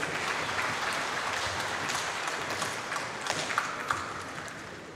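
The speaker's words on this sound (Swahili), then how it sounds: "Makofi kwa CEO hayatoshi." An audience of Simba club members applauding their CEO at a members' gathering, dense sustained clapping from many hands that holds steady and then thins slightly toward the end.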